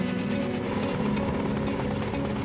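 A K-MAX unmanned cargo helicopter flies with a continuous rotor drone and low rumbling engine, steady and fairly close throughout, with no talk.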